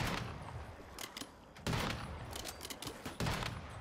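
Gunfire in the survival shooter game Once Human comes in repeated bursts of shots, with several loud volleys over continuous background action.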